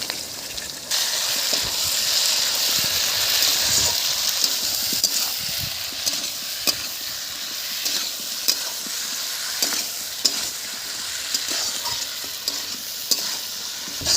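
Potatoes frying in a pan with salt, tomato, turmeric and chilli powder, a steady loud sizzle with scraping stirs and spatula taps, no talking.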